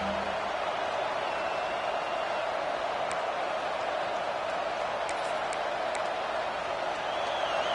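Stadium crowd roaring in a college football video game, a dense, steady wall of cheering noise throughout, with faint whistles or calls rising briefly above it.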